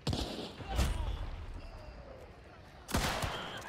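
Two sharp gunshots crack in Hunt: Showdown, one at the start and a louder one near the end, each with a booming tail and a quiet pause between them.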